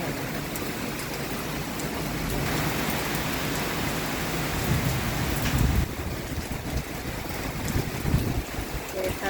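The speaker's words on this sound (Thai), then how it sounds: "ฝนฟ้ากระนองฝนพายุเข้าแล้วค่ะ" Steady roar of heavy rain and gusting wind, loud and continuous with surging bursts throughout.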